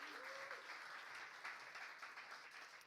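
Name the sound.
church congregation applause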